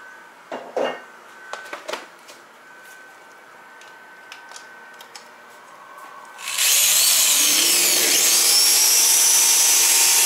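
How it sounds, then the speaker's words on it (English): A small powered hand sander runs on wood with 100 grit sandpaper, switching on after a few light knocks and handling sounds, then droning loud and steady to the end. "It's actually this little hand sander. It's powered. So it makes it a lot easier to do the sanding."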